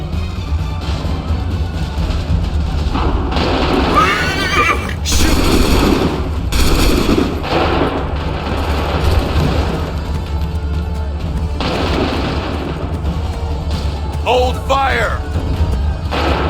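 Musket volleys crack and boom across an Assassin's Creed 3 battlefield, several loud bursts of gunfire tangled with shouted orders, booming impacts and a constant low rumble of battle.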